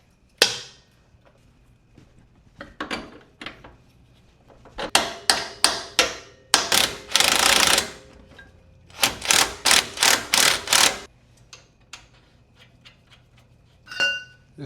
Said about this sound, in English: we're going to have to bust the jack out to get the hub to actually meet the coilover